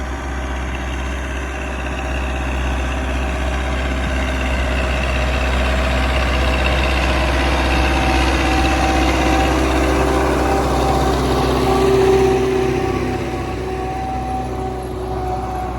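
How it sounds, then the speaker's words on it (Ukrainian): An MTZ 892 tractor ploughing with a Velesagro plough gives off a steady low engine rumble. The drone holds close and even with a faint mechanical whine over it, and it swells slightly near the end. "зараз трактор на задньому фоні гуркоче з плужком Велесагра і робить красоту"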